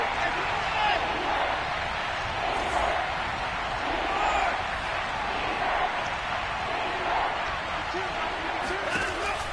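Football stadium crowd roaring steadily ahead of a big third down, a dense, loud wash of cheering that holds at an even level throughout, with a commentator's voice running over it.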